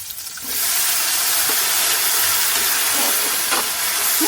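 Tomatoes dropped into a hot frying pan start sizzling, a sudden loud, steady hiss that holds strong and close throughout with faint crackles, no talking.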